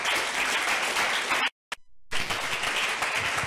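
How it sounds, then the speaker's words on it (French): Church congregation applauding during a worship service: dense, steady clapping that breaks off briefly into near silence, then resumes just as full. "Acclame Jésus si tu veux acclamer. Acclame bien."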